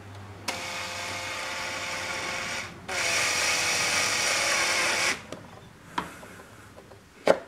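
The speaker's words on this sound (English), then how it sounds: "Now we drill the second pilot hole." A power drill bores pilot holes while a Touratech Zega Pro2 luggage rack is fitted to a Honda Africa Twin CRF1000 motorcycle. Two close, whining bursts of a few seconds each are followed by a few faint clicks and knocks.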